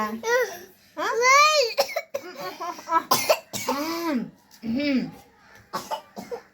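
A child coughs several times in short bursts, mixed with babbling, squeals and a bit of laughter close to the microphone.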